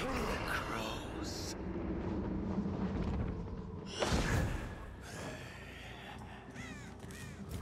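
Crows cawing in the horror video game Dead by Daylight, a few harsh calls over a dense, noisy game soundscape with a brief louder burst midway.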